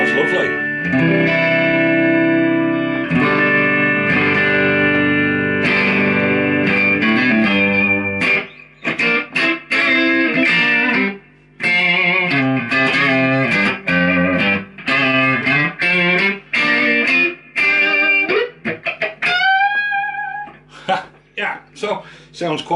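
A bright, chimey 1989 Japanese Fender Stratocaster electric guitar plays sustained chords and then choppy, staccato phrases, notes ringing out with a light reverb tail.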